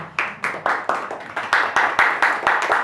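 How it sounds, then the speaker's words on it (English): Regular, distinct handclaps at a Green Party of Hawaii state convention, about four per second, close and fairly loud, steady with no voices over them. "I'm only clapping for Mark."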